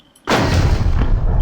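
A single heavy cannon blast in a modded Minecraft game erupts suddenly after a quiet moment, a loud booming roar that rumbles and lingers without fading.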